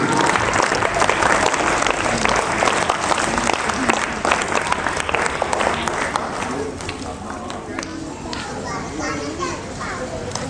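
An audience at a school event claps loudly and continuously, with children's voices and movement mixed through the sustained, crowded applause.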